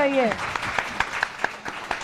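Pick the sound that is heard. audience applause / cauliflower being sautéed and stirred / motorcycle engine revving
audience applause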